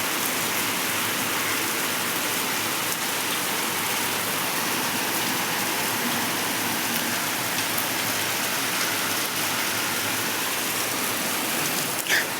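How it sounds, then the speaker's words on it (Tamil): Heavy rain falls steadily in a dense, even roar with no pauses, close by and loud for the whole stretch. "மழை பெய்யுது செம்ம."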